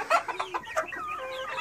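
Sebright and Hamburg hens cluck and chatter close by in a busy, overlapping run of short calls.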